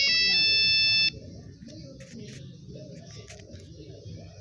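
A Nokia mobile phone ringtone plays inside the Indonesian horror game Pikabu Genderuwo as a loud, bright melodic ring that cuts off after about a second, followed by quiet low rumbling and scattered soft game sounds.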